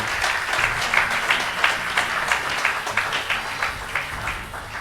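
A congregation at an ordination service applauds steadily, the dense clapping holding at an even level from start to finish, with cheering woven through it.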